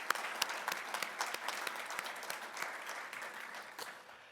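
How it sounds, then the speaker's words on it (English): A gala audience claps steadily for several seconds in a large room, a dense patter of many hands with no voices over it. "Let's give them a round of applause."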